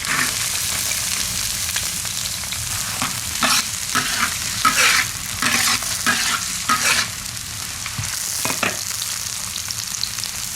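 Garlic scapes stir-frying in hot oil with scallion and ginger, a steady loud sizzle broken by repeated scraping stirs of the spatula over about ten seconds, no talking.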